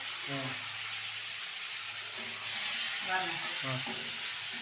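Onion and tomato sautéing together in a pan for a pakoda kurma, with a steady soft frying hiss and a few scraping stirs of a spoon, while people talk intermittently over it.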